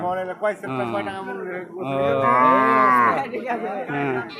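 At a cattle market in a Bangladeshi border area, cattle moo loudly and close by in long drawn-out calls, with faint crowd chatter behind.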